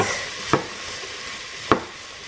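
Onions cooking with sausage in a pot over medium heat give a gentle continuous sizzle, with two sharp scrapes of a spoon stirring about a second apart.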